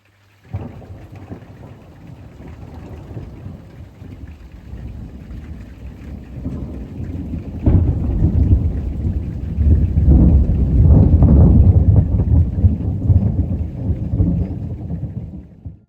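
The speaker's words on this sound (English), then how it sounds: "the big storm that we were expecting arrived just in time to give my plants a good old soaking" Thunderstorm with heavy rain over an Italian homestead garden, steady downpour with low rolling thunder that swells louder midway and keeps rumbling to the end.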